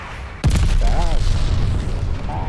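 A glide bomb explodes in Call of Duty: Vanguard, a sudden loud boom with a low rumbling tail that stays heavy under in-game radio chatter.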